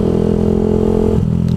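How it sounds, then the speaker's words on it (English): A motorcycle's aftermarket exhaust rumbles and revs up close, a loud, steady burbling drone that shifts pitch near the end. "I do love this exhaust so much."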